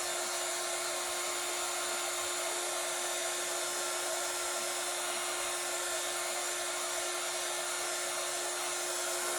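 A hair dryer blows steadily on a baseball cap to dry permanent ink, a constant close whooshing roar with a fixed motor whine that runs unbroken through the whole stretch and has no voices over it.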